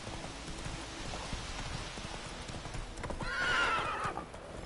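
A horse gallops with rapid clip-clop hoofbeats in The Witcher 3 video game, then lets out a loud whinny near the end, over a faint rain-like ambient hiss.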